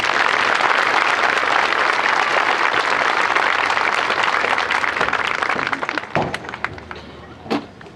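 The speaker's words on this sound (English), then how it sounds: "Please give her another round of applause." A large crowd at a high school graduation ceremony applauds loudly and steadily, the clapping thinning out and fading toward the end with a few last scattered claps.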